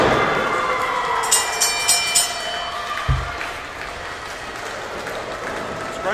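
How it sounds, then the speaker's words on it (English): A wrestling crowd applauds after a pro wrestling main event: broad, steady clapping and cheering fills the hall, with a few sharper bursts and a low thump partway through. "This crowd showing their appreciation."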